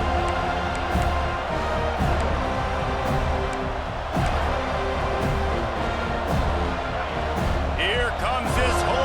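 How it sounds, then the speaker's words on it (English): A home crowd roars steadily at a Miami Hurricanes versus Florida State game in College Football 26, a dense, constant wall of stadium noise under continuous play-by-play commentary. "Here comes this home crowd as the defense tries to get off the field on 3rd down."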